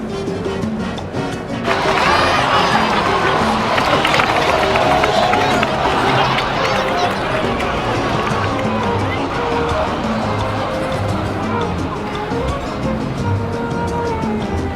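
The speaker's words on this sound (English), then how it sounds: "Let's give a huge round of applause to our brave young warrior, Kachina!" Crowd applause and cheering in the Genshin Impact video game, celebrating the young warrior Kachina in the Natlan Archon story: a sustained, dense roar of clapping and cheers under game music, with voices speaking over it.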